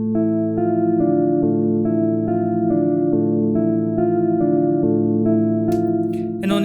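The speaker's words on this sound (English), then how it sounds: "Now we will have a melody that sounds like this." Trap beat melody made in FL Studio plays back as a steady looping synth line with sustained tonal notes in a repeating pattern, loud and alone, with a short noisy burst near the end.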